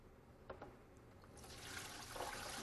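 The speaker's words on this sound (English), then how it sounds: "I'm going to stop and listen for the bubbling. That means all the seals are in place." Sanitizer solution pours into a SaniServ 500 Series twist ice cream machine, a faint soft wash of liquid that swells and bubbles gently after a couple of clicks.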